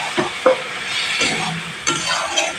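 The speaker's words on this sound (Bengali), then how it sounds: "এখানে জল দিয়ে দিলাম" Water poured into frying okra curry: a brief burst of bright, loud sizzling and hissing in the pan, with a few sharp spatters and utensil knocks at the start and near the end.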